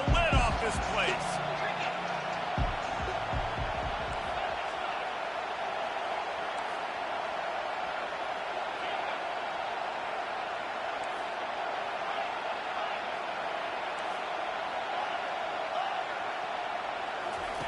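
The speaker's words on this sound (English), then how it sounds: "this crowd is tearing the lid off this place" College football stadium crowd roaring on third down in a video game, a dense, unbroken wall of loud crowd noise that holds steady throughout after a few thuds and knocks at the start.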